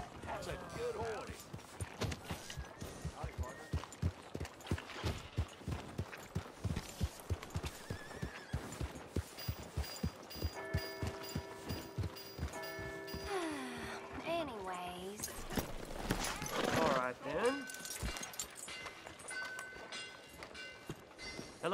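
Horse hooves clip-clop in the Red Dead Redemption 2 video game, a steady rhythm of clear close steps, with neighs and whinnies rising over it and speech and game sounds mixed in.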